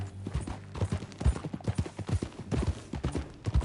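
Horse hooves clip-clopping at a steady riding gait in Red Dead Redemption 2, a close, rhythmic series of distinct thuds carrying on throughout.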